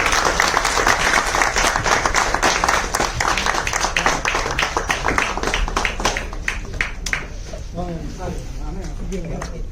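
Audience applause at a Tamil film directors' association ceremony, dense clapping that runs throughout and thins slightly toward the end, heard under a voice speaking over it.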